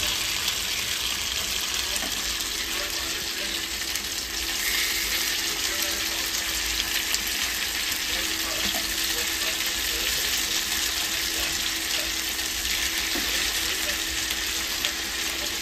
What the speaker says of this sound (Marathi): ही बघा मच्छी फ्राय झालेली आहे.